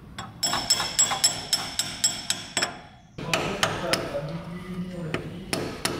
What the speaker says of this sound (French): avec un petit coup de marteau, il va y aller tout seul